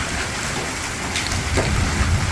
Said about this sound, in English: it's hailing like crazy.